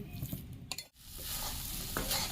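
A thick coconut milk and palm fruit mixture is stirred in a pan over medium-low heat, giving scraping strokes and then a steady, close bubbling sizzle with no talking.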